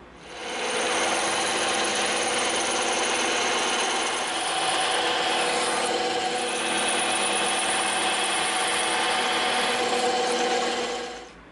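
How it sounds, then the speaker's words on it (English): A bandsaw rips through EVA foam in one sustained, steady whirring cut with a rough rasping edge, close and loud, starting and stopping cleanly with no talk. "we have a bandsaw, so we're going to rip this out on the bandsaw"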